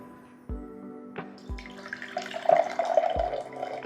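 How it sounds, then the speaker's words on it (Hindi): Water pours into a drinking glass with a rising, splashy rush that grows fuller over a few seconds. A few dull knocks come before it, and no one speaks. "ये मेरे पास एक ग्लास है। ओके, जस्ट ध्यान दीजिएगा। ओके, और इसके अंदर मैं पानी भर रहा हूँ।"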